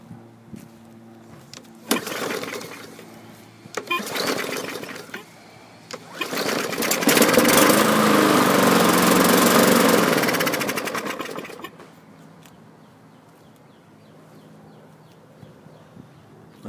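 A 2015 MTD or Poulan Pro lawn mower engine on contaminated fuel sputters through several short bursts, then runs roughly for a few seconds before dying back to quiet.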